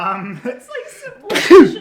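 Someone speaks, then a single loud, sharp sneeze bursts out close to the mic near the end, briefly overlapping his talk.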